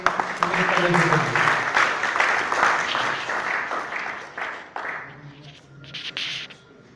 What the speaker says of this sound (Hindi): आपकी जोरदार तालियां बननी चाहिए